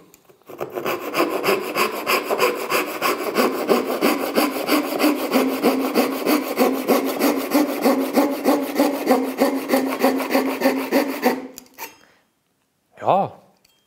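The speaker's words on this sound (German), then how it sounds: "Wir sägen jetzt nochmal genau daneben und gucken mal, ob das klappt." A cheap folding Japanese pull saw cuts through wood in a steady, fast back-and-forth rhythm of loud, close rasping strokes for about eleven seconds, then stops abruptly.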